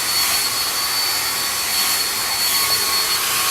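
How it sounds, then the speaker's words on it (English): A hair dryer blows steadily on natural hair, a loud, constant close-up rush of air with a faint whine that holds level throughout, with no talking. "I don't know how I feel about this dryer."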